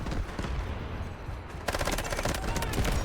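MP7 submachine gun firing in the video game Delta Force, a rapid burst of closely spaced shots with a dense, loud crackling texture, the rattle intensifying sharply partway through after a steady rumble of gameplay noise.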